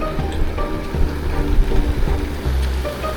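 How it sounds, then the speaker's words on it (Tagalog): Heavy rain pours down steadily at an outdoor fishing spot, a dense, continuous hiss with low rumbling gusts, close and fairly loud with no talking. "Lakas na nga ng ulan."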